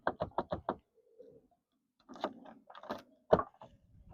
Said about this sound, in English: Test the lock.